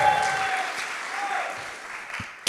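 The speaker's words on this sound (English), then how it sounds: "Clap your hands for Camilla" A crowd applauds at a hackathon final-presentations event, clapping for an attendee who has been called to stand. Voices and cheers come through briefly at the start, and the clapping fades toward the end.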